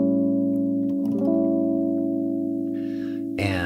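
A sustained instrument line plays a Phrygian dominant lick over a dominant 7 chord, with held notes shifting pitch partway through and a brief brighter flourish near the end, clear and alone without talk.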